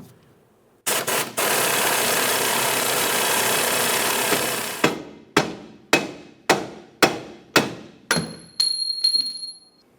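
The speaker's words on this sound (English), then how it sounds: "Let's remove that bolt." An impact wrench or air tool whirs steadily for several seconds on a 14mm bolt in a 2006-2011 Honda Civic rear control arm, then fires about seven sharp, evenly spaced hammering bursts, close and loud.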